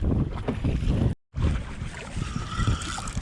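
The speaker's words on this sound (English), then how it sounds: "I'm just gonna paddle to see if I can find Parker" Kayak paddling offshore at sea off Australia in rough conditions, with rhythmic splashing strokes and water wash under steady wind buffeting the microphone, broken by a brief dropout.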